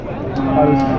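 A single short, low moo from a bull at a cattle market in Chakan, close and fairly loud, lasting about a second.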